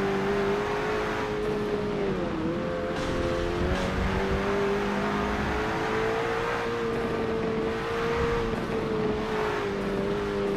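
A McLaren 720S (2018) in Forza Motorsport 7 sends out a steady, continuous engine drone with a few dips and rises in pitch as it shifts and accelerates, loud and constant from start to end.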